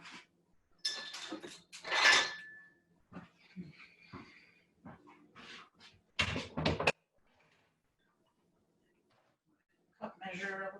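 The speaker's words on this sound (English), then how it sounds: "we can get rid of the cutting board and knife" Kitchen clatter as a cutting board and knife are cleared away while baking cookies: several close, brief knocks and scrapes of wood and metal, mixed in with a person talking nearby.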